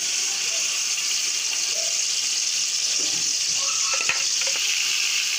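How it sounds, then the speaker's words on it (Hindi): Masala paste sizzles and fries steadily in the oil left from browning onions for degi biryani, a loud continuous hiss with occasional stirring clinks close by. "ये सारा मसाला जो है जितना भी हमने पेस्ट करके रखा था और वो सब मसाला इसके अंदर हम डाल देंगे"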